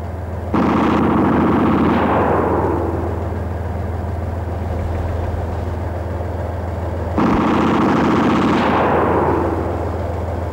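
The coaxial 7.62 mm machine gun of a 1981 T-72 tank fires two sustained loud bursts separated by a pause, each rapid rattle tailing off into rumbling echo over a constant low engine drone.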